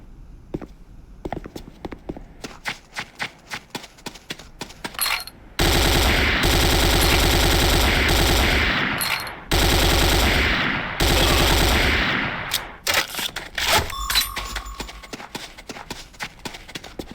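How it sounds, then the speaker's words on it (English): The Corbretti AR-70 Raptor automatic rifle in Command and Conquer Renegade fires loud sustained automatic bursts of several seconds each, with separate single shots and footsteps before and after. "The next weapon is the Corbretti AR-70 Raptor automatic rifle."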